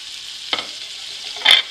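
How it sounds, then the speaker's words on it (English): Filet medallions sizzle in a pan with butter as they are basted with rosemary, a short close hiss with two brief scraping or spooning bursts of spattering fat. "I'm going to start basting them"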